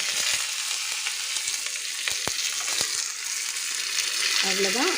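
Loud, steady crackling sizzle of curry leaves dropped into hot oil, with sharp pops breaking through the hiss.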